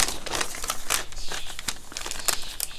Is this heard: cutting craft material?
yes